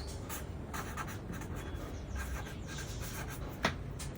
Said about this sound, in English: Write the size, write your name,